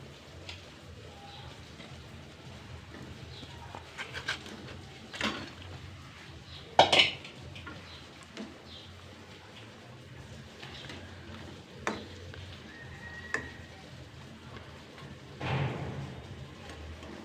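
Fish going into broth in a cooking pot with potatoes and plantain-leaf greens, heard as sparse clinks and knocks of metal utensils against the pot over a low kitchen background, with one sharper clatter partway through.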